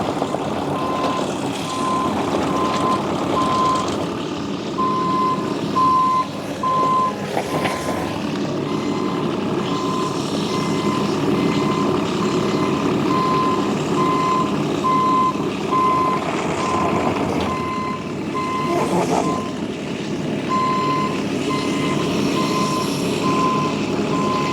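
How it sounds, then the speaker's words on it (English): An excavator working on a resin bound surface sends out a steady reversing beep that repeats in regular pulses over a loud diesel engine drone, with a few heavier mechanical surges along the way. "The next piece of equipment testing out the resin bound, we have the Excavator."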